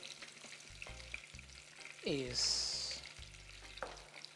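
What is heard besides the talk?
onion and spices frying in oil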